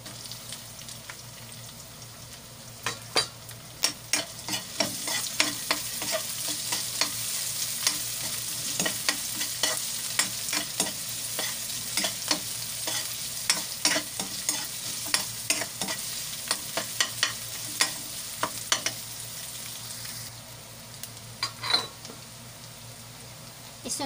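Onion sautés in a pan with a steady sizzle while a spoon scrapes and taps the pan in irregular strokes throughout, close and fairly loud.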